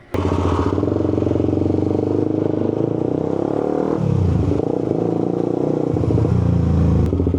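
A loud motorcycle engine runs steadily throughout, rumbling and revving with a rough mechanical clatter, close by and constant.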